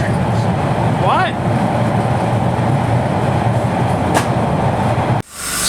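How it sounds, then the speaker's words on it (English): A subway train roars loudly along the track, a dense continuous rumble with a brief high squeal of wheels early on, the noise cutting off abruptly near the end. "Sorry, I can't hear you. The track is so loud."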